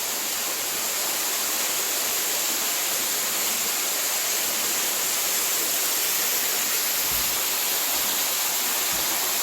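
A waterfall at an old quarry in James H. Floyd State Park, Northwest Georgia, makes a steady, even rush of falling water. It fills the background without pause and has no talk over it.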